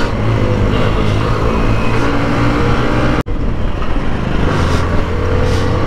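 A Hero Xtreme 125R motorcycle engine roars loudly and steadily at close range, with one abrupt brief dropout partway through before the dense drone resumes.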